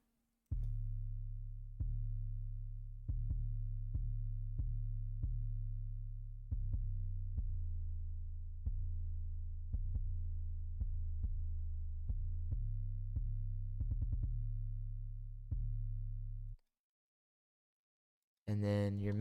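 A hip hop beat built on a deep, booming 808 bass plays in a steady rhythm of repeated low hits for most of the stretch, then cuts to silence before a brief burst of sound at the end.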